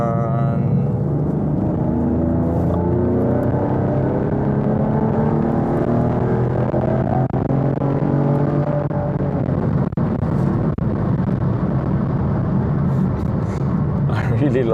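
A Chevrolet Camaro's engine drones and builds as the driver gets back on the power, a steady rising rumble heard from inside the car beneath continuous talk.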